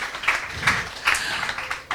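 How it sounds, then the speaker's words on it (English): Audience applause for a guest speaker, Dr. Panashe, at a talk on ancestral wisdom: a steady wash of clapping with a few louder bursts, moderately distant and continuous for about two seconds, with no talk over it. "So a round of applause for Dr. Panashe."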